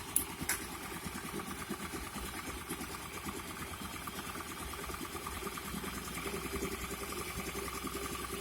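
Hero Pleasure scooter engine being revved after a camshaft noise fault, a steady close, loud mid-pitched running drone with dense rhythmic mechanical ticking throughout, no speech.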